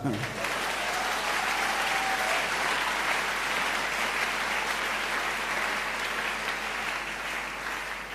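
A church congregation applauds together, a dense, sustained wash of clapping that stays loud and even for the whole stretch, with a brief voice near the start.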